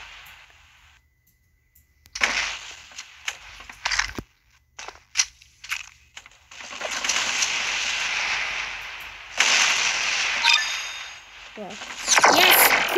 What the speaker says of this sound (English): Shooting bananas. Bananas. Really? Why bananas?